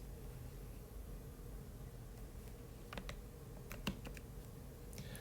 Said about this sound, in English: I am going to type this out like I did the other day